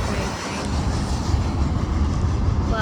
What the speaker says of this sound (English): Well, bye, freight train.